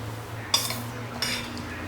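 A spoon stirs a malai toast topping in a bowl, giving two distinct metallic clinks against the dish over a faint background hum.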